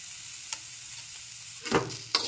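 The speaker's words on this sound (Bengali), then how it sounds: "এখন ভালো করে একটু নেড়ে ছেড়ে নিচ্ছি কিছুক্ষণ ভেজে নেওয়ার জন্য" Mixed vegetables frying in a pan with Kashmiri chili powder, turmeric and salt for a vegetable chop filling: a soft, steady sizzle with a few sharp spatula scrapes and stirs near the end, quiet overall.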